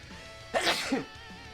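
One abrupt sneeze, close to the mic, a quick sharp burst against a faint steady background hum.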